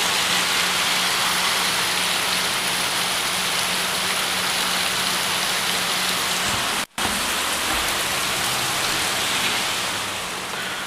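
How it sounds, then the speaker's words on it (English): Steady, dense rain falls without a break for the whole stretch, a loud even hiss with a faint low hum beneath and one sudden instant of near silence. "this whole film is going to be nothing but rain right now"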